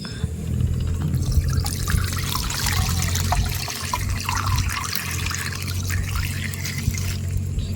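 Water being scooped with a mug from a shallow, dirty water source near a machine, with continuous close splashing and trickling and a low steady hum underneath.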